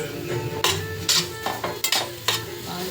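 Vegetables for a curry are stirred and fried in a pan. A soft sizzle runs underneath while a spoon scrapes and clinks against the metal in several sharp, irregular strokes. No one speaks.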